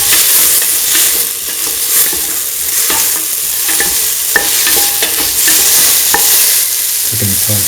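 A spoon stirs a lentil and ground coconut stew in a pan, scraping steadily and close up over a continuous sizzle, with no talking.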